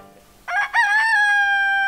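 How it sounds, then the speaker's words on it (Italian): A rooster crows once, loud and close, in a hillside village in the Modena Apennines, its call rising in a broken first syllable and then holding a long, steady note in the open morning air. "ma di che specie sarà il signor Gallo?"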